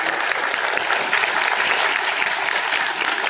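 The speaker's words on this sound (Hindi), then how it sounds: "तालियां बजाओ अपने सभी पूर्वजों के नाम पे" Dense, continuous clapping from a large audience at a religious gathering, loud and close, a steady wall of hand claps with no pauses.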